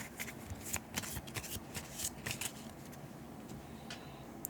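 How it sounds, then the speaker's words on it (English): A deck of board game cards is shuffled by hand at close range, giving a quick, irregular run of soft papery riffles and taps that continues steadily. "And shuffling their deck back."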